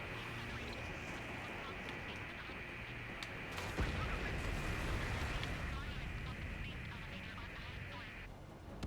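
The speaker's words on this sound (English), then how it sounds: "The harbor is under heavy fire!" Combat over a harbor in Ace Combat 7, with dense gunfire and explosions rumbling steadily beneath a tense music bed, swelling louder in the second half.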